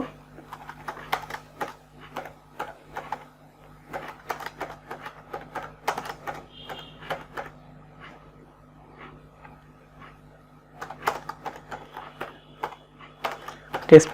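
Keys clatter in irregular bursts of quick taps as HTML text is typed on a computer keyboard, fairly close, with a steady low hum underneath and pauses between runs of typing.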